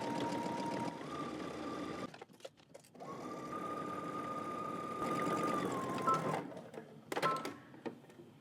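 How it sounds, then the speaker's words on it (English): Sewing machine stitching a double fold hem in bursts, a steady close motor whine running for a few seconds, stopping, then starting again, with brief handling clicks between runs. "I'm gonna be stitching close to where that little ridge is."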